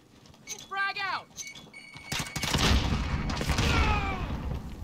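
A frag grenade goes off in a video game with a sudden loud blast, then a long rumbling roar that lasts several seconds. Players talk over it.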